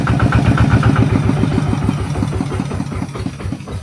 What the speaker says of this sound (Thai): สงสัยเพื่อนสิ เอารถไถไปเด้นี่